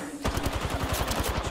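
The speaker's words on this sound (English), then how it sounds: "The enemies are shooting at me." Enemy gunfire in the video game Apex Legends: a steady, rapid automatic stream of shots that starts abruptly and continues evenly at moderate loudness throughout.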